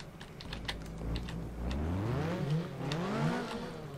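Vehicle wheels spinning up in Garry's Mod with the ACF mod, an engine-like whine rising and wavering in pitch over a few seconds, with clicking keyboard taps scattered on top.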